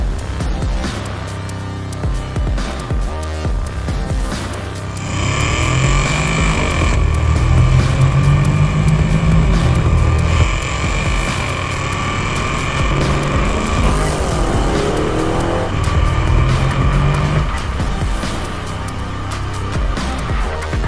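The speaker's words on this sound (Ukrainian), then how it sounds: "А як він перемикається на понижені передачі з такою перегазовкою?" Porsche Cayenne GTS with an Aisin automatic gearbox, engine note rising and falling through gear changes with loud throttle blips on downshifts, heard close and sustained throughout.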